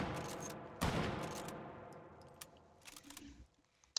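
Mosin Nagant rifle in the H3VR video game, fired in quick succession: one loud shot near the start followed by a long reverberant tail, then fainter bolt clatter and mechanical clicks toward the end.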